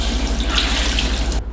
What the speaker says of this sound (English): wash these out in cold water